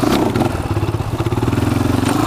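A close motorcycle engine throbs with a steady, rapid pulsing beat under load during a wheelie, loud and continuous with some clatter and thumps from the ride.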